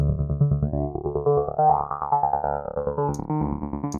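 A layered synth tone with sweeping filter movement from stacked Rift Filter Lite instances, its timbre shifting continuously as resonant vowel-like sweeps overlap, steady and fairly loud throughout.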